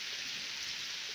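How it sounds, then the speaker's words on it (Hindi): Heavy rain falling outside a house under construction, a steady dense hiss of downpour with no breaks, heard alone. "एकदम ज़बरदस्त किस्म की बारिश लगी हुई है।"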